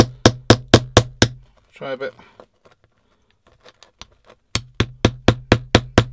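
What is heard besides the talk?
hammering on a buried find during beach metal detecting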